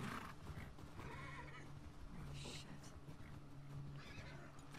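A horse whinnies in The Last of Us Part II as it jumps an obstacle, with hoof clip-clops and a low droning background, fairly quiet overall.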